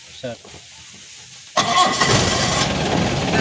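A car engine starts during a trainee driving lesson, a brief crank then a steady idle rumble that continues to the end, with a faint voice before it.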